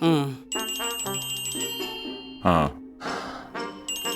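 Telephone rings in short bursts of a high, bright electronic trill, heard several times over a few seconds, with people talking and sighing in between.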